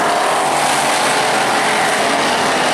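Factory stock race cars roaring around the Perris Auto Speedway dirt oval during the main event, a dense, loud, continuous engine drone with crowd and track ambience blended in, no talk heard.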